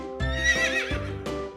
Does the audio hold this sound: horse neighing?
yes